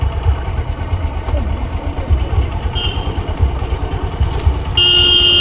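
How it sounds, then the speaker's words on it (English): A motorcycle engine idles with a low, rhythmic chugging that shifts slightly in pitch as the clutch is released and the bike starts crawling, close by, with a brief high tone near the end. "Listen how the engine sound changes."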